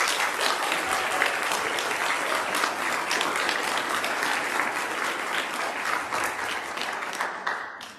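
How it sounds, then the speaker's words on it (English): An audience at a school band concert claps in a sustained, dense round of applause that holds steady for several seconds before tapering off at the end. "another round of applause"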